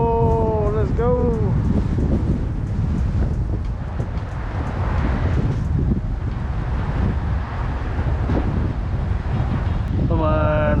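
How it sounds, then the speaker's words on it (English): Strong gusts of up to 32 mph at Spoon Lake in Minnesota, on a fishing outing, buffet the microphone with a loud, rumbling roar that barely lets up, with brief voice-like tones at the start and end. "Even this crazy wind."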